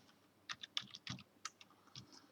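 Quick clicks from typing on a computer keyboard, a dozen or so quiet, close keystrokes in uneven bursts with small pauses, heard alone in a calm room.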